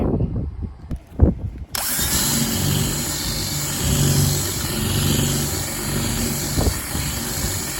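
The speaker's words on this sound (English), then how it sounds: "And as you saw, Greg just drilled a hole about maybe an inch or two on one side from the bottom." A power drill bores a hole near the bottom of a 27-gallon plastic tote, starting with a few knocks and handling sounds, then a loud, steady whirring grind that runs on to the end.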